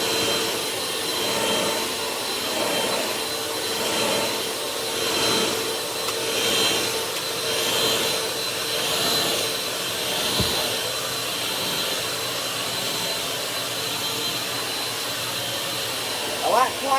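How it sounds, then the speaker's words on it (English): A Bissell Power Force vacuum cleaner runs steadily while cleaning a bed, a continuous close whooshing motor roar that swells and dips rhythmically with the strokes across the mattress, with a brief thump near the end. "Final vacuum, making sure my bed gets nice and clean."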